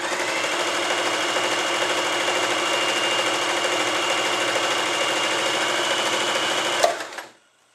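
Elna 120 sewing machine running a G decorative stitch, a fast steady motor whir with rapid needle clatter for about seven seconds before it winds down and stops, close and alone.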